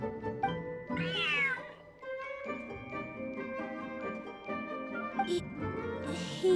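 Cat meowing in the Genshin Impact video game, a large cat giving several drawn-out meows in a row with gentle background music running underneath.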